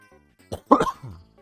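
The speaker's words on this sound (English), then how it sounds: "Also followed by an actual cough." A couple of short, harsh coughs near the microphone, loud and abrupt, followed by a brief softer throaty sound before quiet returns.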